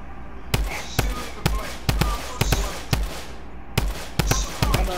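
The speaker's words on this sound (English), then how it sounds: "I'm shooting in the air because I got a whole bunch of bullets" Gunshots fired into the air in Fortnite: a steady volley of sharp, loud cracks about twice a second, with a short break before they resume at the same rhythm.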